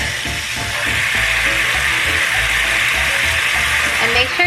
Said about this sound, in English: So now I'm just going to pour the sauce in.